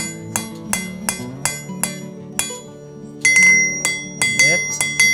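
Hammer strikes ringing on hot iron and anvil while tapering the shaft of a hand-forged Viking era key, about a dozen sharp metallic blows in an uneven rhythm, close and loud, with a bright clinking ring after each hit.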